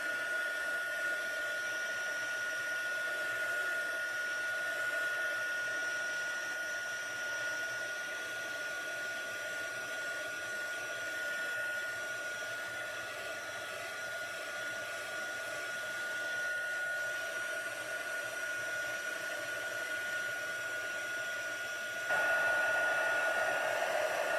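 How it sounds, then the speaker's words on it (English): A heat embossing tool blowing hot air to set gold on a card edge: a steady, close whirring hum with a high whine, running unbroken for over twenty seconds and stepping slightly louder near the end, with no voice. "So now what we'll do, we're going to heat set this on the edge."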